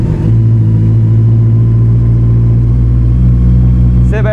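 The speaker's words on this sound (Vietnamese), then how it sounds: "mình sẽ test động cơ cho mọi người nghe thử ha" A Honda CB400 400cc motorcycle engine runs loud and close through a fully rebuilt exhaust, a deep steady rumbling idle with a sustained throaty tone and a brief rise near the end.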